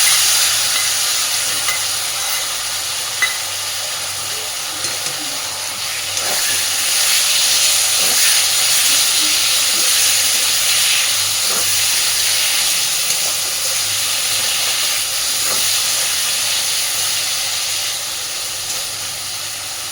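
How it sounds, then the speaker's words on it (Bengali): A paste of onion, garlic and green chili fries in a pan for a fish curry, giving a loud, continuous sizzling hiss with faint stirring clicks and no talking. "এইবার খুব সুন্দর করে মশলাটা কষে নেব।"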